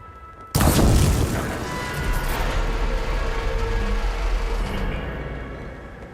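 A massive machine arm crashes down in Horizon Forbidden West, landing with a sudden loud boom and impact, then a long rumbling, grinding tail that slowly fades.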